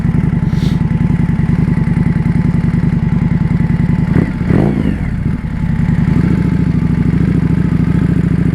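A Yamaha R1 sport motorcycle engine runs loud and close with a steady, lumpy idle and mechanical clatter, with a brief blip partway through before it settles back into a constant rumble.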